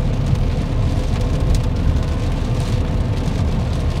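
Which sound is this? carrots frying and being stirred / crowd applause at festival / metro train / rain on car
rain on car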